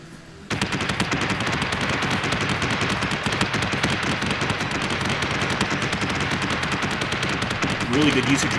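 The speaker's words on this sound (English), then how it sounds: "Really good usage of flak there to try and stop anything we could shoot at him." Dense, relentless flak gunfire from capital-ship batteries in the space combat game BSG Deadlock, a loud continuous rattle of rapid shots filling the scene after a brief quiet start, with a faint voice near the end.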